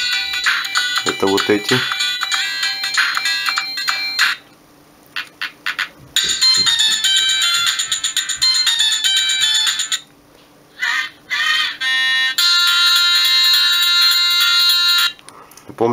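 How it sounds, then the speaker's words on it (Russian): Built-in polyphonic ringtones of a Samsung X100 mobile phone play loud and bright, several melodic beeping tunes in stretches separated by short pauses, with a few brief spoken words between them. "есть еще несколько встроенных рингтонов, которые находятся в папке «Мои звуки», но, к сожалению, из них сохранилось только три"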